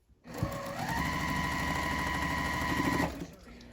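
A sewing machine runs in one fast, steady burst of about two and a half seconds, stitching quilt block seams for a fall pumpkin block, loud and close with a rapid mechanical chatter and no talk.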